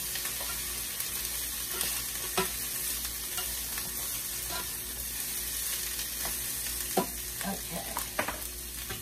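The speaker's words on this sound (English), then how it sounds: "I don't fry it all the way through because it has to go in the gravy and cook some more" Cubed steak frying and browning in a pan for a smothered steak dinner, a loud continuous sizzle and crackle with scattered spatters and a few clinks of a utensil, no talking.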